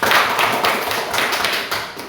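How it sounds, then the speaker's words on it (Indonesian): Students in a classroom clap for the first presenting group, a short burst of fairly loud, close, uneven clapping with soft rhythmic pulses. "mari kita tepuk tangan untuk kelompok 1 dulu"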